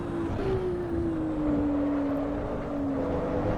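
Carbureted racing car engine in the sim racing game Assetto Corsa EVO, a steady droning tone with slowly falling and rising pitch as revs shift, continuous and fairly loud throughout.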